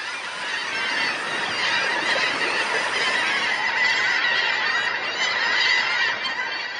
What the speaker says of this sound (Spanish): Los pájaros arramblan con todos los huevos que pueden.